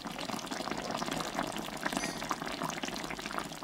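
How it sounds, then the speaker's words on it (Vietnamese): Braised fish simmering gently in a clay pot over low heat for caramelized Vietnamese cá kho tộ, a steady soft bubbling hiss that continues unbroken throughout with no talking. "Thấy bên trên mặt cá nó sôi nhẹ như thế này là được"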